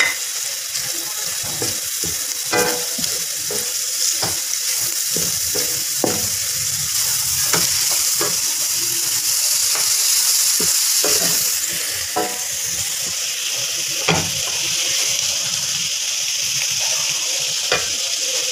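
Carrots, capsicum and green onion are stir-fried in a pan, a constant close sizzle broken by repeated sharp scraping and tapping strokes of a utensil at an irregular rhythm.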